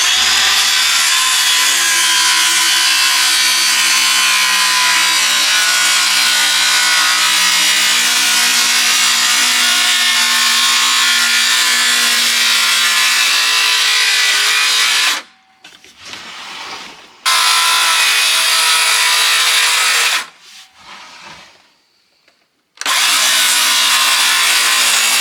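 Power saw cutting wood pieces for a tiny house window trim, a loud steady cutting drone that runs continuously, then drops out twice briefly before starting up again.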